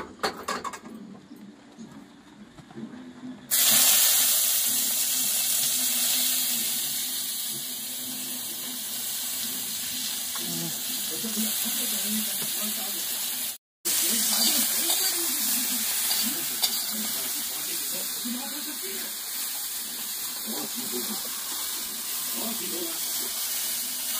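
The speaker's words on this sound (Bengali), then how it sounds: "আলুগুলো ভাজার পরে কালারটাই পুরো চেঞ্জ হয়ে গেছে" Potatoes fry in oil in a home kitchen pan, a dense sizzle that jumps in loudly after a quiet opening and holds steady with stirring scrapes, briefly cutting out midway before resuming.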